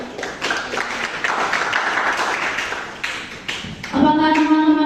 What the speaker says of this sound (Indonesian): diberikan tepuk tangan yang meriah untuk kedua kandidat